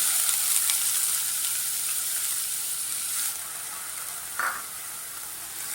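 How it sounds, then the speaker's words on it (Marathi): Chopped onion and garlic sautéing in a pan for homemade pizza sauce, a steady close sizzle running throughout with a brief stir scrape near the end. "तर हा पण आता चांगला परतून घेऊया आपण कांदा पण चांगला लाल होईपर्यंत आपण परतून घेऊया"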